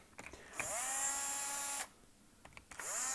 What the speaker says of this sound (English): let me go get my screwdriver, my handy dandy power screwdriver